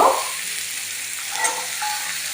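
Green peas hit a hot pan for vegetarian aloo dum with a brief loud burst at the start. A steady frying hiss follows, with light stirring and no speech.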